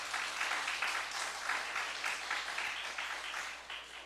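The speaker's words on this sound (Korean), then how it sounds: "하나님께 영광의 박수 올립니다." Congregation applauding to give glory to God during a Sunday morning church service, steady rhythmic clapping in a hall, moderately loud and continuous throughout.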